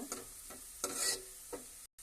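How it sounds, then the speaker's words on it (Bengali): Onions frying and browning in a pan, a soft continuous sizzle broken by several rhythmic scrapes of a spoon stirring, quiet and close, ending in a brief cut to silence. "পেঁয়াজ লাল হওয়া শুরু হয়েছে, এখন লাল হওয়া পর্যন্ত আমি অপেক্ষা করব।"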